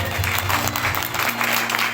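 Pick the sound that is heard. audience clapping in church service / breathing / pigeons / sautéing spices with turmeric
audience clapping in church service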